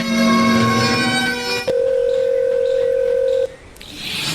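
A cellphone gives electronic dialing tones: a buzzy harmonic tone, then a steady pure beep lasting almost two seconds, followed by a brief click and faint noise.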